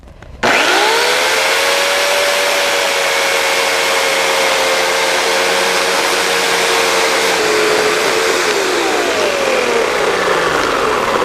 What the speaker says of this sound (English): we're just going to make a 70-degree cut into the base of this tree